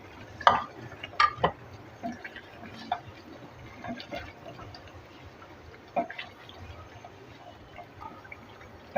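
A spoon stirs chicken korma in a pot, giving quiet scattered scrapes and a few sharper taps against the vessel over a low simmering background, close and without talk.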